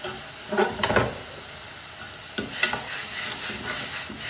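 Ground tomato mixture being stirred in a pan for a breakfast dish, giving soft scraping and rubbing strokes at an irregular pace over a steady background hiss, with no talking.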